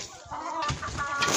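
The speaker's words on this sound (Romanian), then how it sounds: "Uitați, le-am dat la găini." Chickens clucking and squawking close by at feeding time in winter, several birds calling at once in a busy, continuous chatter.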